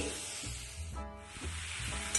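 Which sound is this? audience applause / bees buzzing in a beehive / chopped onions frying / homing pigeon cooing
chopped onions frying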